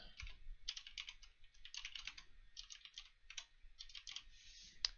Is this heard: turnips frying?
no